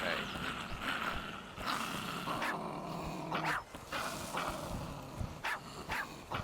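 A dog in a survival video game growls and barks repeatedly at moderate volume over a steady background of game ambience.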